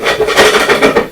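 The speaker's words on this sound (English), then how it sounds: "let's do a little more scrapey things with Sky" Paint is scraped off a canvas with a scraper while a sky is reworked, giving a quick run of rough, rhythmic scrapes close up with no talk.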